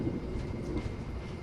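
Inside a moving passenger train, a steady low rumble and rolling hum fills the space continuously without clear breaks, moderately loud and enveloping.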